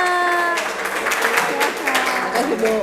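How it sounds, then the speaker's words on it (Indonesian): Classroom of students clapping for a classmate after a presentation in a hospitality course, steady close applause over the whole stretch with voices and chatter mixed in. "Oke, tepuk tangan Dika."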